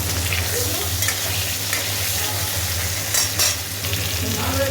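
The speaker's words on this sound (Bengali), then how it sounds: "মাছ ভাজতে বসিয়ে দিয়েছি" Fish frying in a pan, a loud steady crackling sizzle heard close up, with occasional sharper spatters and faint stirring, no talk over it.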